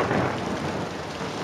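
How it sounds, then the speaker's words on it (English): Steady broadband roar of a thunderstorm, rain and a deep rumble of thunder filling the clip at a constant, fairly loud level with no voices. "I really love that thunderstorm."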